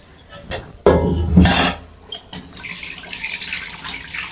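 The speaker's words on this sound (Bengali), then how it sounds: "কড়াইয়ে তেল ধুয়ে দিচ্ছি রে ভাই" Water from a tap splashes into a frying pan to rinse out leftover cooking oil, arriving in short gushing bursts with clinks of the pan, then a steadier hissing stream at the end.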